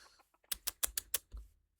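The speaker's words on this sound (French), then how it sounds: "Bon, les poules." Chickens in the video game Minecraft give five quick, sharp clucks in a steady rhythm, close and clear, with a faint click at the start and end.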